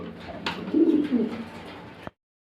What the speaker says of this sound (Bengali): জার্মান শিল মাদি কবিতর